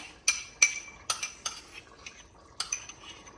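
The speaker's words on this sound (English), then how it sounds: "we'll take our sour cream and put it in the bigger bowl" Sour cream being spooned from a container into a bigger bowl: a series of crisp metallic clinks and taps of a spoon against the dish, irregular and close, with no talking.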